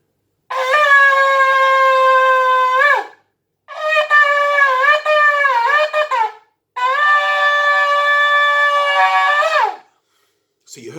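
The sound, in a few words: shofar blown, Chabad-style Shvarim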